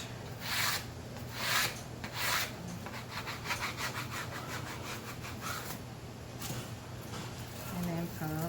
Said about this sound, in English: And then give it a burnish.